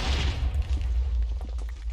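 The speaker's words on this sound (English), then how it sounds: "looks like we have nether ores, so nether lead. Ooh, right, they explode." Nether ores blow up in the Minecraft modpack Enigmatica 2 Expert, a loud, deep game explosion boom with rumbling, crackling debris that fades out.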